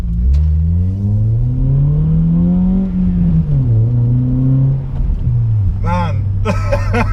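A car driving through a village at the speed limit, its engine droning and rising and falling in pitch as it accelerates and shifts, loud and close inside the cabin, with brief chirps near the end.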